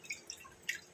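Water drips softly while millet grains are washed in a kitchen, with three faint, sparse, close drops heard alone.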